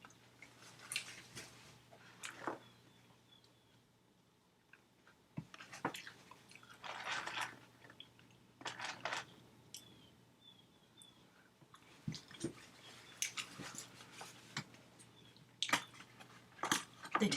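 McDonald's fries being chewed in close, quiet bursts, with soft crunches and wet mouth sounds separated by pauses, against a faint steady hum.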